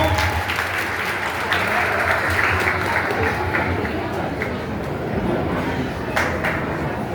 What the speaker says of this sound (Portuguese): Aplausos para a Supergirl, né, gente?